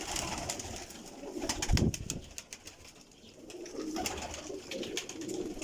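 French pigeons in a breeding loft coo in low, rolling calls, with a sharp flurry of wing flaps midway and steady bird murmuring around, heard close with no voices.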